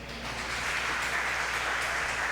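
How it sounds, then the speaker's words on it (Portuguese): Brief, faint, even patter of congregation applause in a church, heard alone with no talking. "Você pode aplaudir o Senhor por isso?"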